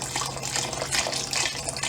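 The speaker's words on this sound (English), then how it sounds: "I'm just gonna add water." Tap water pours steadily into a pot of black-eyed peas already holding vegetable broth, a close, continuous splashing fill with slight surging.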